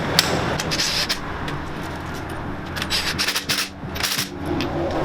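A strut spring compressor tightened on the front suspension of a 2017 Chevrolet Camaro SS 1LE during a lowering-spring install, with close scraping, ratcheting clicks and metallic rubbing over a low background hum.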